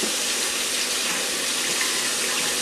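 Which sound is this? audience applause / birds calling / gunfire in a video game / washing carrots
washing carrots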